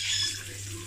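Hot water runs steadily from a bathroom tap as someone rinses after shaving, a brief close hiss alone without voices.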